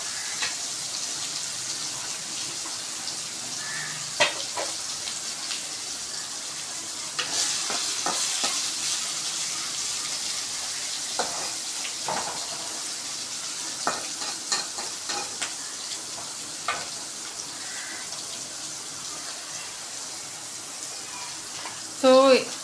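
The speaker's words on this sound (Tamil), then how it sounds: "நல்லா வதங்கி வரும் வெங்காயம்." Onions salted and sautéing in a pan for Tamil chicken kulambu sizzle steadily beneath repeated spatula scrapes and stirring clatter, with occasional louder knocks against the pan and a brief burst of water near the end.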